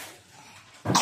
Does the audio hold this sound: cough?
yes